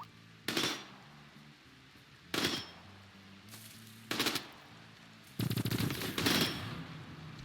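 Gunfire in the modded colony game RimWorld, with four bursts of rapid rattling shots separated by short gaps over a low droning game-music background, the final burst longest.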